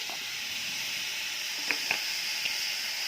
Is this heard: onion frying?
yes